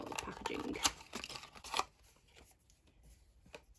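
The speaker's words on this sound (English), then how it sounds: "Let me take out the packaging." Thin plastic or cardboard skincare serum packaging torn and pulled open close by: a few sharp crinkly rips and rustles in the first two seconds, then quieter handling.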